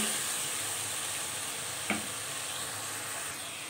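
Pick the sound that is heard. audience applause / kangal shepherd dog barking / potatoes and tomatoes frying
potatoes and tomatoes frying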